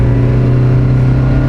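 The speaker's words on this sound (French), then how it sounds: "et le moteur gueule" A Mercedes-Benz W123 240D diesel engine strains at full throttle climbing a hill in second gear, a loud, steady, droning roar with a strong low hum, heard close and alone.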